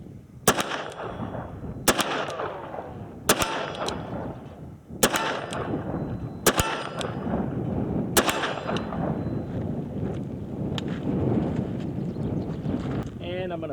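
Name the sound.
1979 Colt Python revolver firing 357 Magnum rounds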